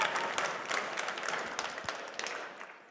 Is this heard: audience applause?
yes